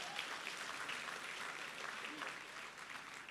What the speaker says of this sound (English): So another round of applause then for the...